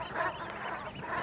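Ducks outdoors on Ameland make a dense, noisy chorus of quacking and honking calls, fairly quiet and continuous, mixed with wind or background noise.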